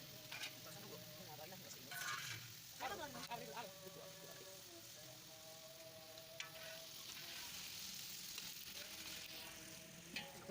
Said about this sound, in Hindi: बोटियाँ फ्राई करेंगे